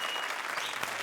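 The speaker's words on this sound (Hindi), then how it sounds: "तालियां" Studio audience applause at a comedy show, a continuous wash of clapping, fairly faint, heard alone throughout.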